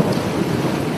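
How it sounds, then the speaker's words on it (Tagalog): Heavy rain pours down in a dense, continuous roar with thunder rumbling low underneath, loud and close, with no speech. "Ang lakas ng ulan, oh."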